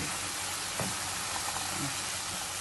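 Tomato sauce for Turkish pepper kavurma frying off its water over high heat, a steady broadband sizzle and hiss running throughout at low level, with a few soft stirring knocks and no talk.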